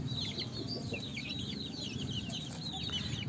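Chickens and growing chicks cluck and cheep continuously in a farmyard at the end of the afternoon, with busy, overlapping high calls over low background noise.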